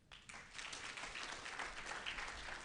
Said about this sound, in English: A big round of applause for Mr. Jérôme